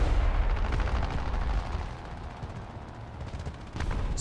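A ZSU-57-2 self-propelled anti-aircraft gun firing in War Thunder: heavy, booming cannon reports rolling over a loud rumbling engine background, with a sharp burst near the end.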